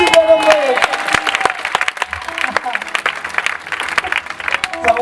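A church congregation at an evangelistic service clapping and cheering in waves, the brisk claps loud and close and mixed with an excited preacher's voice talking over them.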